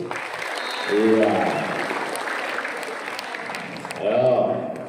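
Students applaud during a school visit to the Deputy Speaker of Indonesia's MPR: a steady patter of clapping runs through the clip, while a voice speaks briefly near the start and again near the end.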